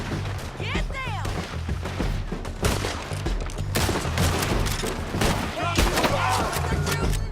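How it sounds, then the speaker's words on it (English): Rapid gunfire from a Red Dead Redemption 2 shootout, a dense fusillade of overlapping shots and crashes running throughout, with shouted voices mixed into the chaos. "They're shooting!"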